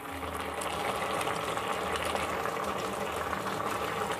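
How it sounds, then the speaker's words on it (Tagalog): Adobong paksiw, a budget Filipino stew with galunggong fish and eggplant, boils hard in a pot, giving a dense, steady bubbling and hissing heard up close with no speech. "Ayan, kumukulo talaga."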